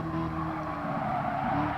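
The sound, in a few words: car skidding in Gran Turismo Sport video game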